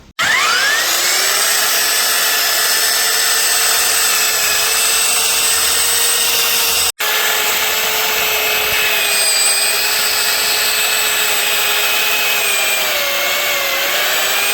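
A power drill with a 6mm bit widens a bolt hole on a cheap pit bike, a loud steady whine held for about seven seconds, a brief break, then running on at the same pitch.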